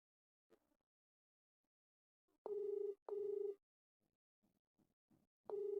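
Outgoing phone call ringback on an iPhone, going unanswered: three loud, evenly spaced electronic ring bursts, with soft faint sounds in the quiet gaps between them.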